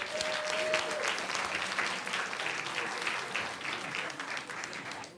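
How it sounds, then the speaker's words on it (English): Audience applause at a school board meeting, a steady round of clapping from a modest crowd heard at some distance, with no speech over it. "Let's give her another round of applause."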